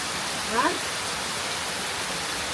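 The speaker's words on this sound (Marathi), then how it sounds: "पाऊस बघा काय धोधो पडता" Heavy monsoon rain in Konkan, India pours down in a loud, steady hiss throughout, with a brief voice rising over it near the start.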